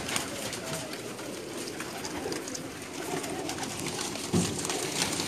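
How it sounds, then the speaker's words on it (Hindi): Soft cooing from a large flock of pigeons on a rooftop in Pakistan mixes into a busy outdoor wash of noise, the birds murmuring steadily with a faint thump near the end. "माशाल्लाह काफ़ी तादाद में कबूतर हैं जी इनके पास।"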